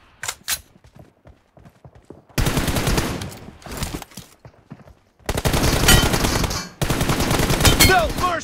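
Bursts of rapid gunfire from a mobile shooter game on an iPhone 8 Plus, sparse single clicks and shots first, then long loud automatic volleys with brief pauses between them.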